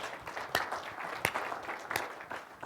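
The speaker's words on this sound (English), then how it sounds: "Can we just give him a round of applause?" Scattered audience applause at a sales-technology presentation, heard as a soft, fairly quiet patter of claps with a few sharper individual claps standing out across the short stretch.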